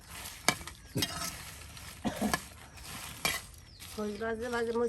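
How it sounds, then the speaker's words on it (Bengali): Chilies frying in hot oil until crisp and dark red, a steady soft sizzle broken by several sharp scrapes and clinks of a spatula stirring in the pan, with a brief tonal squeal near the end. "একদম মসমসে এই যে মরিচ ভাজা করে নেওয়া হচ্ছে।"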